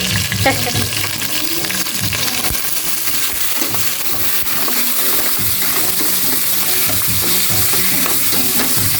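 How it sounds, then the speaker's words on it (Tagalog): Pork sautéing in a pan, stirred as it cooks, a steady close sizzle and frying hiss with scraping utensil clatter throughout, no talking. "Igisa muna natin itong maigi."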